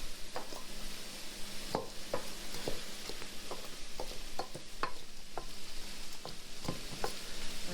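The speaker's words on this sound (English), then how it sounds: "Alright, that's stirred in there." A spoon stirs a tortilla salsa mixture in a pan, sending out scraping clicks in an irregular rhythm over a steady low sizzle. The sound is close and moderately loud, and no one speaks.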